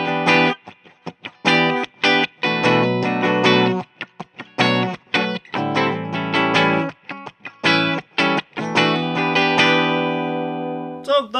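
A 1981 Gibson Sonex Artist electric guitar plays on its bridge pickup through heavy distortion, loud stabbing chords and riffs with brief pauses, ending on a sustained ringing chord, with no voices.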